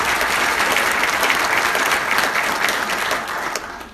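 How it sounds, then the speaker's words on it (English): Crowd applause at an Army AG Corps Hall of Fame induction ceremony, a steady, dense wash of clapping that fades slightly in the last moment. "Please hold your applause until all names have been called"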